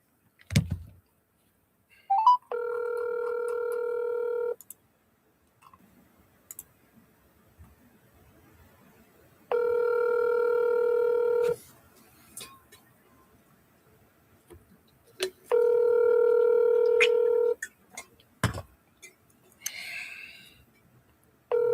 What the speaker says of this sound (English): Oh snap! I dialed the wrong number.